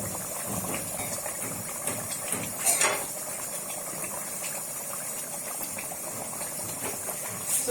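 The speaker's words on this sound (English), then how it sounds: "allow it to boil before adding my melon, my egusi" Meat stock for Nigerian egusi soup boiling in a covered pot, a steady low bubbling hiss with a few small clinks and rattles along the way.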